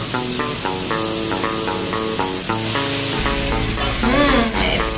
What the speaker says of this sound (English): Now I'm going to add my rice noodles, which have been soaking under boiling water for 10 minutes.